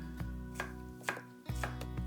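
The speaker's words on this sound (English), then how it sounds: "The first thing is just to slice the shallots" Knife slicing a halved shallot into thin slices on a board, a steady series of crisp close cuts with short pauses, alone.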